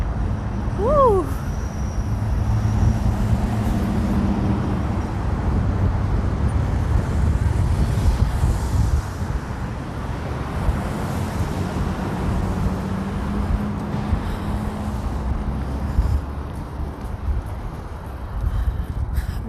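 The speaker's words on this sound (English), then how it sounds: "It's too windy" Strong winter wind buffets the microphone on a Calgary street, a heavy continuous low rumble with passing traffic noise beneath and a brief whistle-like tone near the start.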